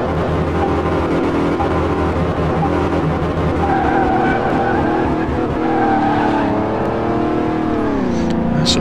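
A car driven in Car Mechanic Simulator 2018 holds a steady, loud engine roar close up, with tire squeal and a rising, shifting engine pitch toward the end.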